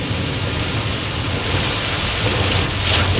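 Heavy rain pounding a car during a Central Florida downpour, a dense, constant roar of drops drumming on the roof and glass, loud and close with no break and no voices.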